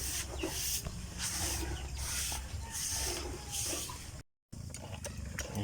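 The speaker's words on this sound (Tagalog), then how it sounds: "Si Kuya Sani nagsimula na siya mag-spray ng palay." A sprayer applies insecticide to rice plants in a Bayambang, Pangasinan field as a steady hissing spray with rhythmic pulses of pumping. It stays close and continuous, with a short gap near the end.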